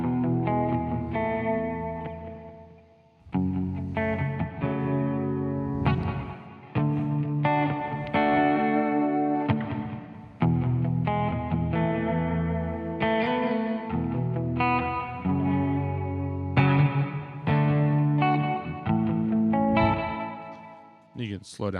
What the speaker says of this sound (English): the last sound on the Space Force we're going through today is called the Echoverb, and it is a delay into a reverb